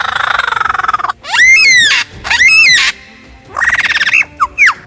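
A lyrebird, a bird known for mimicking almost anything, gives loud, harsh squawking calls in close bursts. A rapid rattling trill comes first, then two long warbling squawks, ending with sharper clipped notes.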